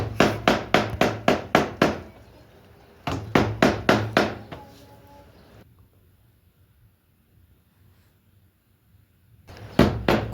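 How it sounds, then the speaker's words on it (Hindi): A hammer taps a tightly wound cooler motor coil to loosen and separate its copper wires: two quick bursts of about six sharp, evenly spaced metallic knocks, then a quiet pause before another short run of blows begins. "हथौड़ी की मदद से इसे कॉइल को थोड़ा ठोक करके तारों को अलग कर देते हैं"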